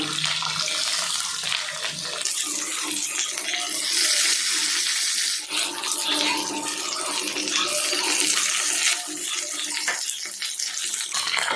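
A whole fish fries in hot oil with crushed garlic, a loud, continuous sizzle and crackle throughout, with no speech.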